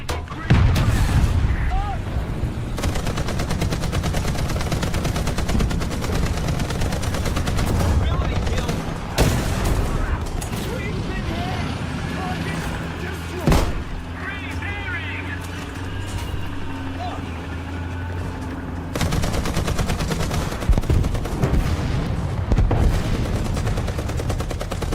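Tank cannon and machine gun fire in a video game, with sustained loud rattling bursts and heavy booms over a constant engine rumble, and someone talking over the gunfire.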